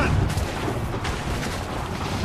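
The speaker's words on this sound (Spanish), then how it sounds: "Vale, ya han venido todos los tiros." Gunfire in the video game Assassin's Creed 3 rumbles as a dense, booming barrage of distant shots and blasts, loud and continuous throughout.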